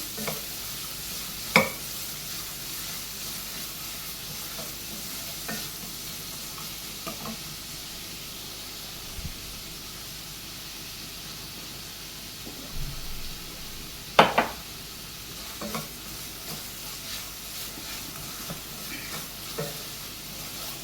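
Chopped onion with salt sautéing in a pan for palak green rice, a soft low sizzle running throughout with occasional scrapes and taps of a spoon stirring against the pan.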